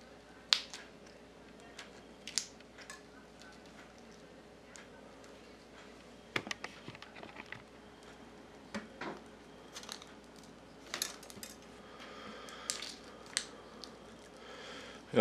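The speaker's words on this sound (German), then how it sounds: "man hört das Knistern drinnen, da hört man, dass sich das vom Klebeband löst" Adhesive tape crackles and snaps as it slowly peels away inside a Huawei phone during a battery replacement: sparse, close, sharp little ticks and pops scattered irregularly over a quiet background, with no talking.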